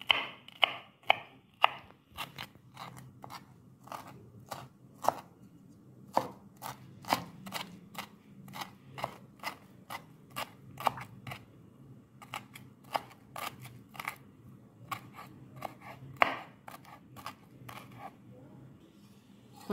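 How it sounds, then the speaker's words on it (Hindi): A knife finely chops broccoli on a board in rapid, crisp taps, some in quick bursts and some spaced apart, close and clear with no talk. "यहाँ ब्रोकली को बिल्कुल बारीक चॉप कर लिया है मैंने।"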